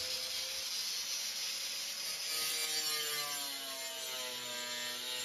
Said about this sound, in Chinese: 线已经画好了，角磨机顺着走一下